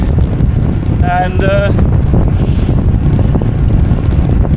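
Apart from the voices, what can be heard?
wind on the Isle of Man course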